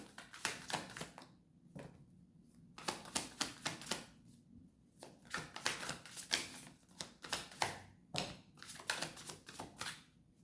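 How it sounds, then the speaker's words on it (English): Bursts of rapid crisp clicking from cards riffled together, several quick runs separated by short pauses, close and fairly quiet. "So I'm just going to do a shuffle at first."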